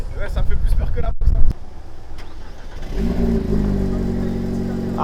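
A car's engine rises and holds a steady mid-pitched drone from the middle onward, close and fairly loud, while people talk over it during a ride on Réunion island.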